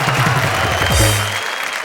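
Studio audience of a Hindi comedy poetry show claps in a brief burst of applause beneath a voice, the clapping thinning out as the moment passes.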